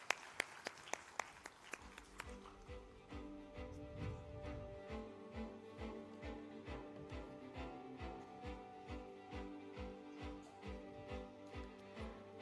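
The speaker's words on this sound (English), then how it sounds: "Can we have a good round of applause, ladies and gentlemen?" A crowd at a graduation convocation ceremony claps in a loud burst of applause for the award recipients, then the clapping fades into a steady rhythmic beat of music.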